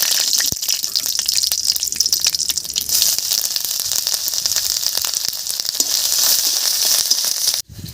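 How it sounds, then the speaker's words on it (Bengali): Dry red chillies, panch phoron, bay leaves and grated ginger sizzle steadily in hot oil, a loud continuous frying hiss that runs close and unbroken for several seconds before cutting off abruptly near the end. "তেল গরম হয়ে গেছে তেলের মধ্যে দেব দুটো শুকনো লঙ্কা হাফ চামচ মতো পাঁচফোড়ন দুটো তেজপাতা এর উপরেই দেব গ্রেড করে রাখা আদা"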